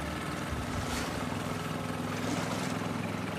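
Boat engine from The Last of Us Part 2 at a marina, a steady loud motor drone with water churning beneath it, constant and close without a break.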